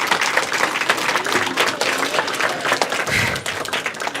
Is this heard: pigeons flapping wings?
no